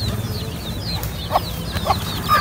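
A hen with her chicks gives soft, short clucks at an outdoor farmyard, with thin high peeping from the chicks over a low steady background hum.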